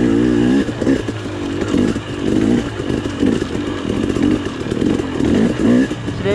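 Dirt bike engine running on a solo trail ride, a loud, close, steady motor drone whose revs rise and fall in gentle surges throughout, with no voices over it.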